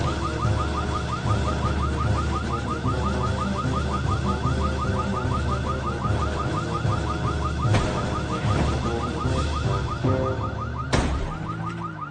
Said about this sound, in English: I've never set off a car alarm on this character before.